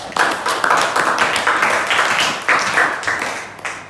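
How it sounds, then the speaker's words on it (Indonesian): A classroom of students claps for a classmate named Danu, a loud, brisk round of applause that thins out and fades toward the end. "Berikan aplaus buat Danu."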